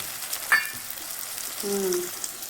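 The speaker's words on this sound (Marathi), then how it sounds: "आता मी टाकणार आहे त्यात टमाटर" Tomatoes hit a pan of browned onion, ginger, garlic and green chili frying in oil, giving a soft steady sizzle with a light clink early on, fairly quiet and unaccompanied by talk.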